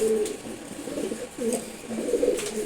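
Male racing pigeons coo in a loft, with soft, low, throaty coos repeating in several short phrases at close range over a steady background hiss.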